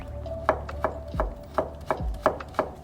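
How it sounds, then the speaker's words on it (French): A knife chopping a carrot into fine julienne strips on a board, a steady series of about eight crisp, close taps at an even rhythm with no talk. "nous allons couper une carotte. Et pareil, une julienne fine"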